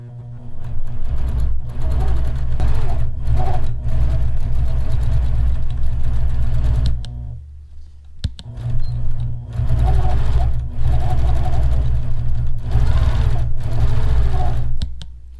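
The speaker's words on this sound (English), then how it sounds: "leave enough extra space to be able to kind of move the machine and stitch these leaders" A longarm quilting machine stitches leaders with a steady loud mechanical whir, running continuously, pausing briefly partway through, then resuming.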